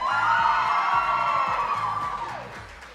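Studio crowd at a Packers Clubhouse Live show cheering and whooping loudly for Coach in a vote, a dense sustained roar of shouts and yells that tapers off near the end.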